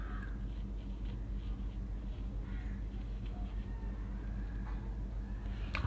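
Marker writing out a chemist's name on a classroom board, scratchy strokes in short bursts over about six seconds, close and moderately loud against steady background hum.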